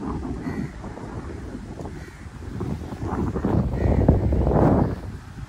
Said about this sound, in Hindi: ठंडी ठंडी यहाँ पर प्यारी हवा चल रही है इस वक्त यहाँ पर